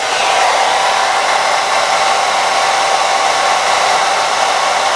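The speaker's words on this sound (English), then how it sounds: "So if you got a hair dryer," A hair dryer set to low blows a steady, even whoosh of air close by, running continuously and loudly without pause, used to dry tape.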